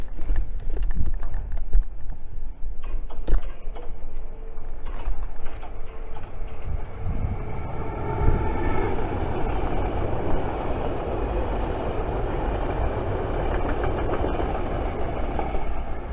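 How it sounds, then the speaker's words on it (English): London Overground Bakerloo line train passing through Northwick Park station, a rising rumble and rhythmic clatter of wheels on rail joints building to a loud, close pass. "we're going to have a London Overground Bakerloo line coming through"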